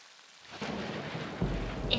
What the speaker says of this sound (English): It was a dark and stormy day.